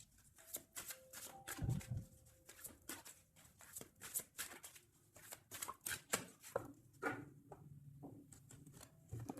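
A deck of tarot cards is shuffled and cut by hand in a quiet room: a close, rapid series of papery flicks, slaps and riffles in uneven bursts, with no voice over it.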